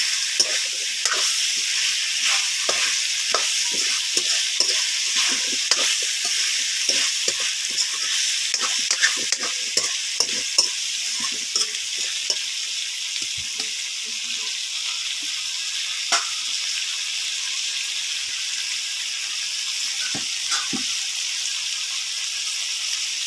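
Cut potatoes fry in a hot pan with a constant loud sizzle, while scattered scraping knocks of a spoon stirring them sound through the hiss.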